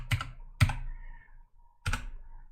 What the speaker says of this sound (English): Let's say you go in here and manually type it in.